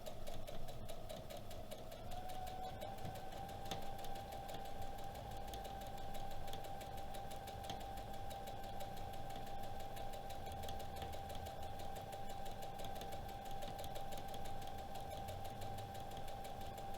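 A sewing machine back stitching fabric for a quilted Christmas ornament, a quiet continuous motor whir with a fine rapid needle patter and no talking.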